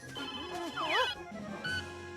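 A cartoon telephone rings with warbling, sweeping electronic tones, a steady bell-like trill, close and fairly loud over faint background sound.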